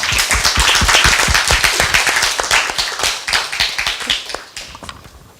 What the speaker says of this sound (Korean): 그러면 큰 박수로